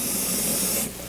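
Cold water sprays steadily from a nozzle onto a wild goose being marinated in a kitchen, a close, loud hiss that cuts off abruptly near the end.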